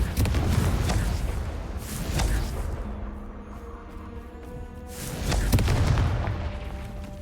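Confringo fire spells blasting in the video game Hogwarts Legacy, repeated loud booming explosions in bursts with a quieter lull between them.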